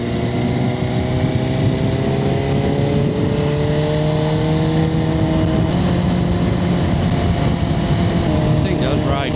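A sport bike motorcycle cruises along a road, its engine droning steadily with slowly shifting pitch over constant wind rush, loud and close throughout.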